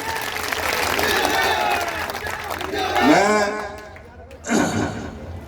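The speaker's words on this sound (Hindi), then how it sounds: "एक बार जोरदार तालियां उनके लिए" Crowd applause at a political mahapanchayat rally for the 2024 Ramgarh assembly by-election: a steady roar of clapping lasting several seconds, with voices mixed in and a louder swell near the end.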